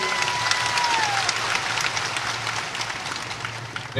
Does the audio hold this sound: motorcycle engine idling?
no